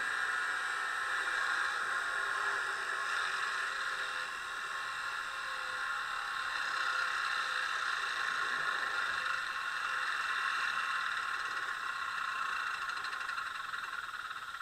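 Generator sound effect from a Spur 1 gauge BR 98.75 model steam locomotive by KM1, a steady, even whirring hiss humming continuously at close range without pause, no voices over it.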